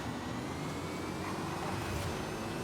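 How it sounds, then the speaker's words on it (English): A hypercar's engine drones steadily as it drives in a racing video game, a continuous moderate roar with no voices over it. "This car is a little bit hard to drive."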